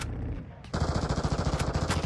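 Rapid automatic gunfire from a teammate in a video game bursts in after a brief lull, a steady close rattling of shots continuing to the end.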